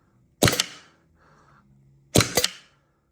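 Two sharp pneumatic bursts from an Æther HPA Nerf blaster as its trigger is pulled and the ram slides along the rail, each a loud, close hiss-and-clack about two seconds apart, with a faint whir between them.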